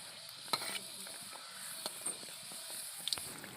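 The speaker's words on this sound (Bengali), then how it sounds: "এইগুলো কি সুন্দর লাল লাল ভাজা হচ্ছে" Aloo puri sizzle and crackle in hot oil, a soft continuous frying hiss with a few sharp pops and clicks from stirring, fairly quiet and close.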